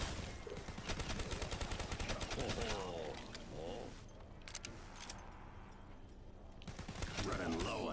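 Rapid gunfire bursts from a Call of Duty Black Ops 3 Zombies match, dense and loud through most of the clip, with game effects and a voice talking over the shooting.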